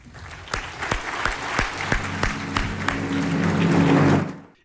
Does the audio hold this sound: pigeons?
no